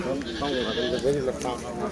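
Goats bleat repeatedly in a busy market, wavering cries overlapping with people talking nearby.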